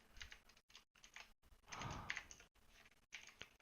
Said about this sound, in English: I am struggling to type